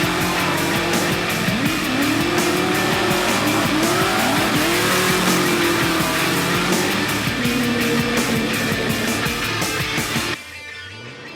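Drift cars slide through corners with loud, sustained tire squeals rising and falling in sweeping arcs over steady engine roar, continuous for about ten seconds before cutting away.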